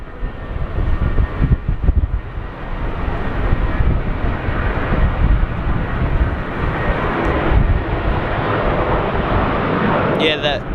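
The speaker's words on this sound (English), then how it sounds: "And there's a Jetstar departing here now." A Jetstar airliner departs on runway 25 at Sydney Airport in windy conditions: a steady, broad jet engine roar that stays loud for the whole stretch, with wind buffeting and a voice speaking over it.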